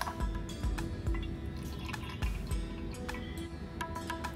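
Malpua being lifted out of sugar syrup, with thick syrup dripping back into the pan in a quick run of wet drips and soft squishy splashes, close and fairly quiet, with no voices.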